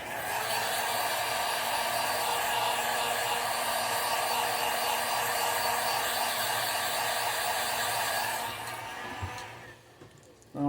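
A heat gun heat-sets gold-blended paint on a crankbait in a crackle bass pattern. A loud, steady blowing roar runs for about eight seconds, then it winds down and fades to near silence.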